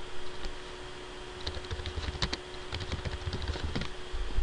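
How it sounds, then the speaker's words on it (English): Steady clicking of fingers typing on a computer keyboard, close and fairly quiet, with no voices over it. "just type the name in here"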